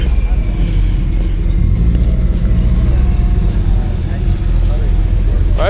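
A turbocharged car engine at a supercar gathering rumbles loudly and steadily nearby, a deep continuous drone with people talking over it.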